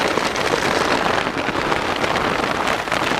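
Rain pours down around a cyclist crossing Kazakhstan, a steady close patter and hiss with some wind buffeting.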